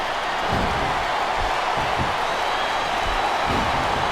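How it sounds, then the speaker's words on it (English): A roaring wrestling arena crowd from the video game WWE SmackDown vs. Raw 2007 makes a steady, dense wall of noise with a few dull thuds underneath, continuous and loud throughout. "I love hearing the crowd come alive"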